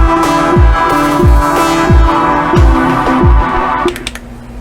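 A tube synthesizer repeats a pulsing tone about twice a second, each note sliding downward in pitch, loud and close, ending in a brief clicky tail.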